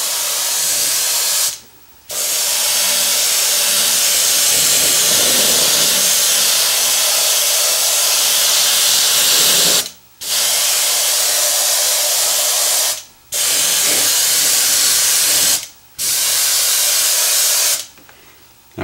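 An airbrush sprays paint onto a clear lexan body in long steady hissing bursts. The bursts are loud and close, broken by four short pauses.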